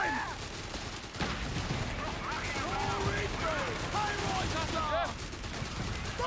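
Rapid bursts of gunfire and machine-gun fire from the Company of Heroes 3 video game, steady and dense throughout, mixed with in-game voices shouting orders over the battle.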